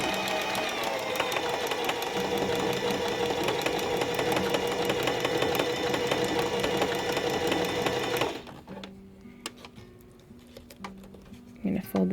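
A sewing machine stitches a short burst in reverse using its reverse lever, then runs forward while sewing a feather fringe, a steady close whirring buzz for about eight seconds that stops abruptly, followed by quiet handling sounds.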